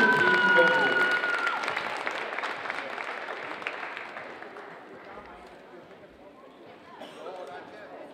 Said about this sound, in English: How about a nice round of applause for these three senior dance cheer team members.